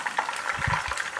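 Chicken pieces frying in a small wok of hot oil, a steady soft bubbling sizzle with faint crackles throughout, fairly quiet and with no voices.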